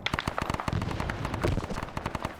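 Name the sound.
gunfire in a Vietnam war video game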